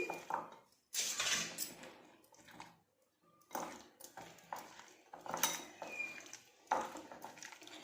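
Paneer tikka masala being mixed with red and green capsicum in a bowl, with repeated clinking and scraping of a utensil against the dish in uneven bursts, close and moderately loud, with no voices.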